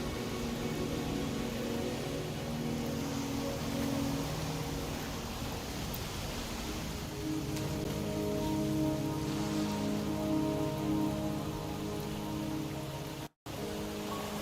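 Steady rain falls in the video game Wuthering Waves, a dense continuous hiss with a low rumble beneath it, holding evenly throughout with no voices.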